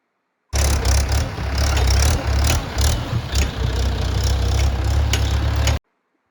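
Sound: tractor engine carrying harvested paddy

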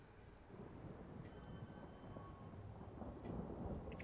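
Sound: rain and thunder in a video game

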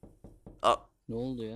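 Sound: door sound in Roblox game The Survey

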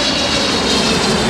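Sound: Philippine Airlines Boeing 777-300ER jet engines

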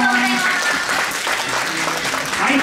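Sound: audience applause

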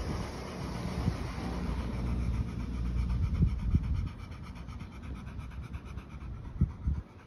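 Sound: dog panting

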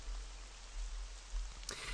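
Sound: rain in Animatronic Horror video game

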